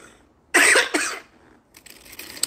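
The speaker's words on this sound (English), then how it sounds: "But the cough will not go away." One harsh, chesty cough bursts out close to the mic in two quick pulses, then fades into quiet breathing and faint rustling.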